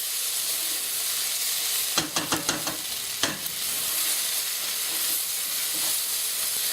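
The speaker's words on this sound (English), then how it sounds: "when the onions are just starting to, I guess, gain their color, I kind of stir it a little more often" Onions for French onion soup sizzle in a pot as they start to caramelize, a steady bright hiss broken by a brief run of stirring taps and scrapes, with no speech.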